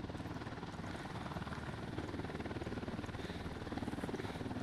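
Steady helicopter rotor thump and engine roar in the video game Ghost Recon Wildlands, a continuous rapid chopping drone filling the whole stretch at moderate level, with no speech over it.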